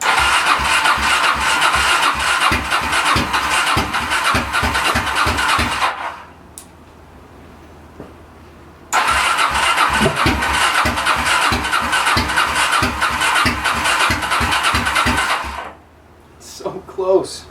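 A Honda VT700 motorcycle engine cranks with the choke on in long, rapid pulsing starter bursts, loud and close, separated by a pause and ending with a short sputter, without catching.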